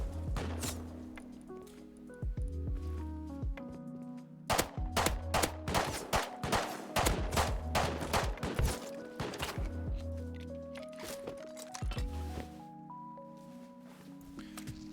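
Rapid pistol fire from a P2 semi-automatic in the survival game Rust, a dense burst of sharp cracks in the middle stretch under tonal game music, with sparser shots at either end.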